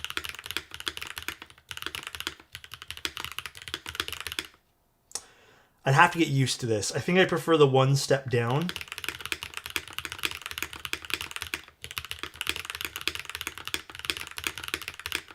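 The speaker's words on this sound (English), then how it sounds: "I mean, it sounds great." Rapid, clacky typing on a mechanical keyboard, close and steady, stops briefly while someone speaks, then resumes at the same busy pace.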